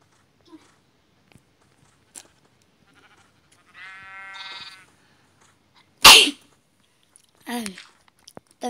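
A sheep in Minecraft Pocket Edition multiplayer survival lets out one wavering, nasal bleat mid-clip, surrounded by sparse clicks and a couple of sharp bursts against near-silence.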